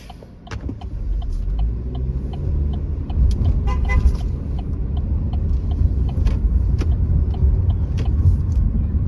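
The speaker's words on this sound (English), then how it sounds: "Bus tooting me, I already saw you though." A city bus horn toots from nearby in downtown traffic, a brief honk cutting over the steady low rumble of a car interior while driving.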